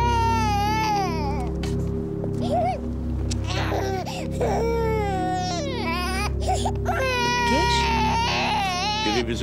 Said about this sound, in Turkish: Bir çocuk ağlıyor. Nereden geldi bu ses?